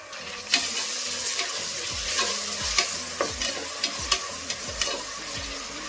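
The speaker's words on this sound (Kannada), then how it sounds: "ಟೊಮೆಟೊ ಸ್ಮ್ಯಾಶ್ ಆಗಂಗೆ ಫ್ರೈ ಆಗಬೇಕು." Chopped tomatoes sizzle loudly in a pan for mushroom pulao while a spatula stirs them, a steady frying hiss broken by repeated scraping strokes, close and without voices.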